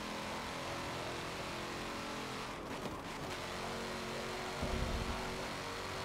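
A Corvette race car's engine in Forza Motorsport 7 during an endurance race, a loud, continuous, steady engine drone with slight shifts in pitch, heard alone with no talk.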